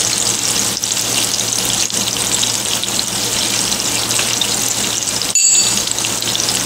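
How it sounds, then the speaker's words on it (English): Jeera (cumin) pods fry in a pan of oil and butter, a loud, steady dense sizzle that runs unbroken throughout with a brief clatter near the end and no voices. "So let's leave this to fry a little to extract those flavors from those pods of jeera"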